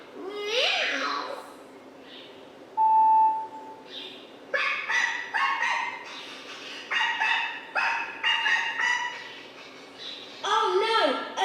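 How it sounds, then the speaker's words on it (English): A dog barks in repeated sharp bursts at moderate distance, the yaps bunched in quick runs through the second half, with voices talking around them. "Oh no, a dog!"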